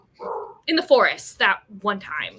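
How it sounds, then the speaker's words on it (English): A house dog barks in short yips and woofs in a room during a live online book chat, the barks tangled with and partly masked by ongoing conversation. "Sorry for my dog."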